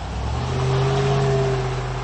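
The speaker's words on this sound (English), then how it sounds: "The center dual exhaust plays the baritone sounds to perfection" A close 2006 Jeep Grand Cherokee SRT8 engine revs through its center dual exhaust in a deep, rumbling baritone, holding a strong, steady drone for a couple of seconds.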